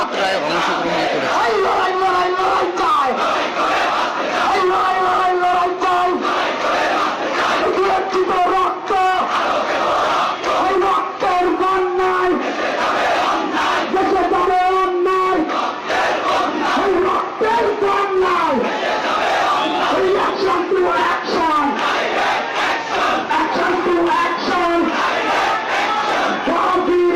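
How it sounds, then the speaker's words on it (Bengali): A student protest march behind a Dhaka College banner, with a dense, loud crowd of voices chanting slogans in rhythmic repeated phrases that carry on without a break, close and filling the scene. "পিছনে ঢাকা কলেজের ব্যানারে একটি মিছিল।"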